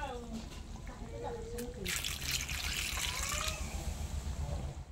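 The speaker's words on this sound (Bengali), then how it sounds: "এবার ধুয়ে নেব" Peeled vegetables washed under running water, a few faint splashes and then a steady rush of water for about two seconds before it eases, with a person talking throughout.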